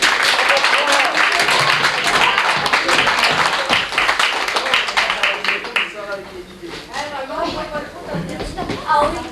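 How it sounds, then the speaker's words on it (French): Guests at a grandmother's 80th birthday party clap for the organiser in a lively burst of applause lasting several seconds, which then dies away as people begin talking close by. "Ça fait une bonne main d'applaudissements"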